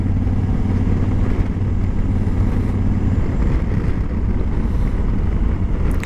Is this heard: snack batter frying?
no